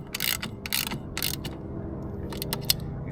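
A ratchet wrench snugs up bolts on a 25hp Yamaha outboard water pump with quick bursts of close clicking, three distinct runs then a denser cluster, over a faint background hum.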